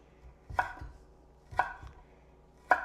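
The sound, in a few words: cutting ingredients for a natural cleaner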